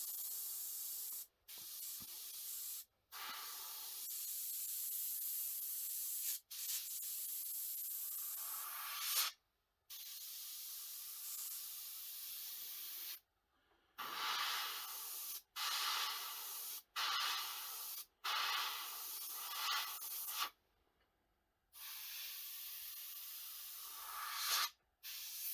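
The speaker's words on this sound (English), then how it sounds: "just bring the airbrush a little bit closer to it, control your needle" Airbrush spraying paint onto an AMT 1/3200 Romulan Warbird model, with close, steady hissing bursts of varying length separated by several short silent pauses.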